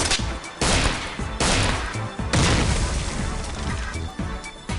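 A grenade explodes in the video game XCOM, a loud close boom followed by further heavy blasts and crashing debris in several bursts, with no voices.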